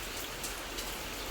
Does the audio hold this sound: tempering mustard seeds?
no